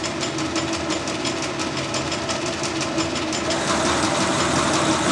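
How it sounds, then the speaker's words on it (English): A sharp new drill on a power feed bores steadily into metal, giving a continuous grinding, chattering mechanical rumble with a faint regular pulse. The sound is close and stays even throughout, with no voices. "I put a power feed on. I'm using this drill because it's a new drill."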